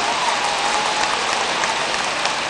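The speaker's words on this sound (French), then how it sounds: "Sur vos applaudissements, s'il vous plaît, madame, messieurs." Sustained crowd applause from an audience at a tribute ceremony honouring a musician, a steady dense clatter of clapping that fills the whole moment without pause.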